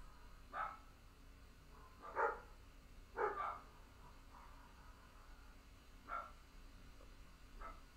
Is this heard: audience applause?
no